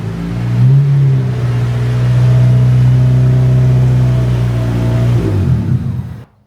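A turbocharged Honda Civic engine revs up and holds a loud, steady drone while driving toward the garage, then cuts off abruptly near the end.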